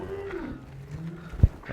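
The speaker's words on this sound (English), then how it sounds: "This cow really wants to get out, and so I'm having to watch her." A cow gives a few low, brief moos in a cattle handling pen during low-stress stockmanship work, with one louder thump near the end; faint background sounds.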